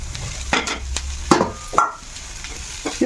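Paneer stuffing frying and being stirred in a pan, with a few scraping and clinking strokes of the spoon over a soft sizzle, close by and moderately loud.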